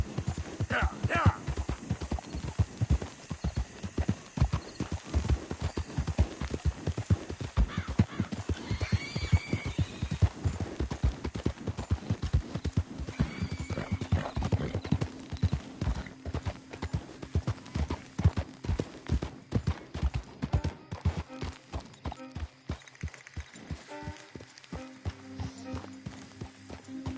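Horse hooves clip-clopping at a steady gallop in the Red Dead Redemption 2 Wild West game, with occasional whinnies and a voice urging the horse on, continuous and fairly close throughout.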